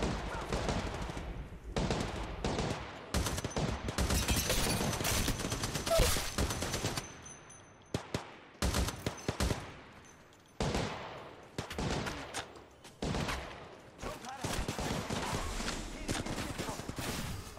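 Gunfire in the Apex Legends Mobile battle royale game: rapid automatic bursts and volleys break in and out in clusters between brief quiet gaps, loud and close, with a player's voice talking in places.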